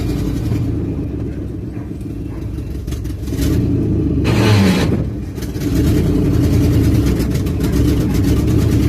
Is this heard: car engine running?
yes